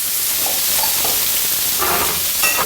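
Scallops sear in a hot pan with a loud, steady sizzle and hiss throughout, close up, with no talking.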